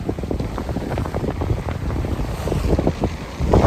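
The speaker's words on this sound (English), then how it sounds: "it's just been a beautiful day of beating into the wind" Strong wind buffets a sailboat beating upwind, gusty roaring microphone wind over the rush and slap of water against the hull, loud and close with no voices.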